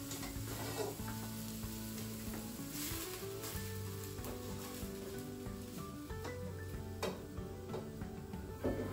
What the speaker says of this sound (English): Stirring regularly to make sure that the aubergine doesn't burn.